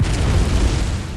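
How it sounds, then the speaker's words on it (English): A cannon fires in the video game Bloodborne, a loud heavy boom with a deep rumbling body that slowly fades out. "a wacky concluding encounter with a cannon for some reason"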